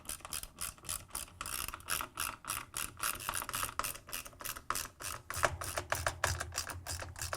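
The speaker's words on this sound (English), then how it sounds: "Then, using the 10 mm socket wrench," 10 mm socket ratchet tightening counterweight bolts on an LG/Kenmore washer tub, with quiet, rapid, rhythmic clicking in repeated bursts of strokes, close up and alone.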